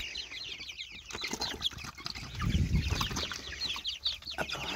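Hens clucking in an outdoor enclosure shared with chicks, soft close clucks and chatter with a brief flutter of wings, fairly quiet and with no voices over them.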